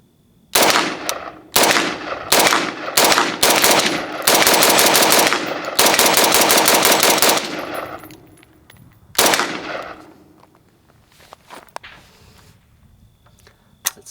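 FN FNC 5.56mm rifle firing outdoors on a range: loud, close strings of shots, several rapid bursts and long automatic runs, then a single later burst, with a ringing echo between them.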